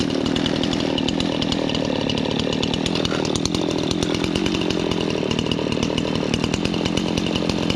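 A Stihl 026 chainsaw engine idles steadily nearby after restoration, a rapid, even putter that runs unchanged throughout with no voices.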